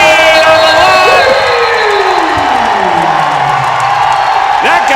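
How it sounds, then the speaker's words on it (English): Basketball arena crowd at a Radford vs Liberty game roaring loudly after a steal, with sustained cheering and whoops throughout and a commentator's voice talking over it. "That got the crowd up."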